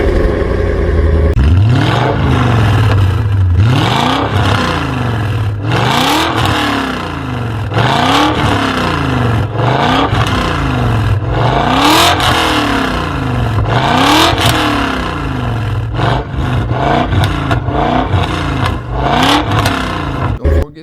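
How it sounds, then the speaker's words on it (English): A BMW E39 M5's V8 revs repeatedly through an aggressive exhaust, each blip rising to a loud roar and falling back in a regular rhythm, close and dominant throughout. "let's try the engine sound. The exhaust"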